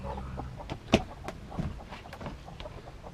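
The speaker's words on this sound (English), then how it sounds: "We got a lot of broody hens right now." Broody hens cluck softly and irregularly close by, scattered low clucks with one sharper squawk, against a faint outdoor background.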